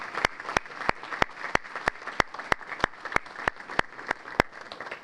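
Applause for the culinary arts group at a high school academic banquet: a steady, fairly faint patter of clapping from the room, with sharp single claps ringing out at a regular beat over it.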